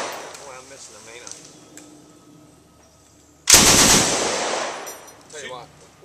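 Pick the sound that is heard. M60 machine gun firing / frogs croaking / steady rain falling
M60 machine gun firing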